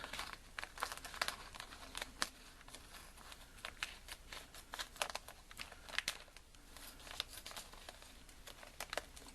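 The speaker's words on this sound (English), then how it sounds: "take some scissors and trim this end off." Scissors snip through the sealed end of a plastic bag for a homemade MRE, giving a run of close, crisp crinkling and cutting sounds with irregular sharp snips and rustles throughout, no talking.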